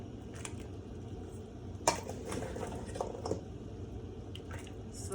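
Vegetables are scooped into a simmering pot of Puerto Rican sancocho with beef, giving soft wet splashes and light clinks of a utensil against the pot over a low steady kitchen background.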